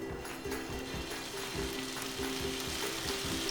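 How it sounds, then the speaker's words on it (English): Paneer pieces shallow fry in oil on a tawa, giving a steady close sizzle with faint scraping or stirring now and then and no voices. "And now to a tawa I'm going to add oil as required, and I'm going to shallow fry the paneer pieces."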